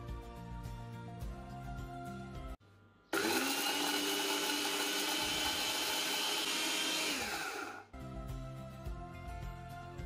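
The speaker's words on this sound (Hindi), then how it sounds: "अब ये सारे मसाले मिक्सचर में डालेंगे और इसे ब्लेंड करके इसका पाउडर बना लेंगे।" Electric mixer grinder blending whole spices such as coriander seeds into powder, a loud steady whirring roar that runs about five seconds, framed by quieter kitchen clatter before and after.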